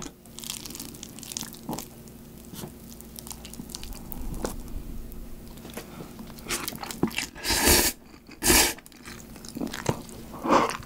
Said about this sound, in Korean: 먹어보겠습니다